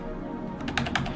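A quiet gaming computer keyboard being typed on, a short burst of about half a dozen soft, close key clicks over a low background hum.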